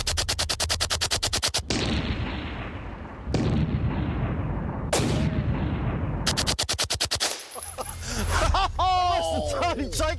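Full 25-round magazine emptied from a Sten or MP28 submachine gun in about a second, fired as rapid, loud close bursts of automatic gunfire, several strings in a row, with brief pauses and people talking and reacting between bursts.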